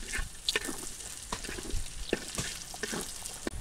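Chopped garlic and onion frying in oil for a dal tempering, a soft continuous sizzle with intermittent scraping stirs and utensil clinks, close and fairly quiet.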